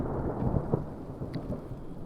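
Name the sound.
thunder during rain on Yosemite hike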